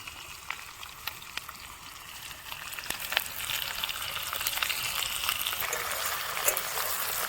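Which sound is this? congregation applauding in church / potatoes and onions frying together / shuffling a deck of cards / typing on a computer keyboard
potatoes and onions frying together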